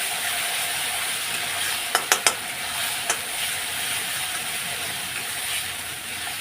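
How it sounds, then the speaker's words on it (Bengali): Spices and Kashmiri chilli powder sauté in hot oil for a Bengali fish curry, giving a steady close sizzle with a few sharp scraping clicks of a spatula partway through. "কাশ্মীরি লঙ্কার গুঁড়োটাই দিই এই যে এখন কষিয়ে নেবো ভালো করে"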